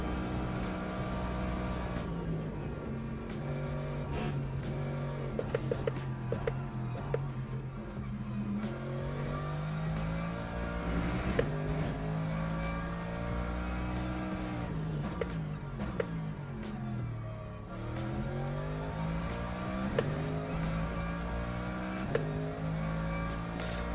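Race car engine in the Le Mans Ultimate racing game revving steadily with rising and falling pitch through gear changes, loud and continuous with no talk over it.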